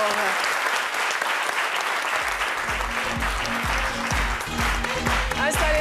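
A studio audience claps steadily throughout a French talk show, loud sustained applause with rhythmic music thumping underneath toward the end.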